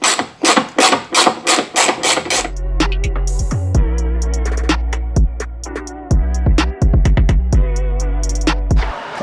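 Scraping, rasping and knocking as an old side skirt is pried and bent off a Mercedes 190E, with a steady low hum beneath and a run of sharp taps and clunks, close and fairly loud.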